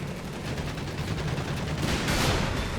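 Dense, continuous tank battle gunfire in Company of Heroes 3, a loud sustained barrage of overlapping shots and blasts with a brighter burst near the end, no talking.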